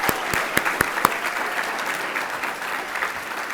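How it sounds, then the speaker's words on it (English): Audience applause fills an awards ceremony honoring staff for 40 years of service, a steady mid-level clatter of many hands with a few sharp, louder claps standing out near the start. "A big round of applause."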